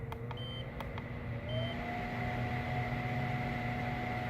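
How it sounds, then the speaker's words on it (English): A Regency gas fireplace blower fan at high speed gives a steady whirring hum with a low drone, rising slightly in pitch partway through, with a few short electronic beeps near the start. "you can increase the intensity of the blower itself"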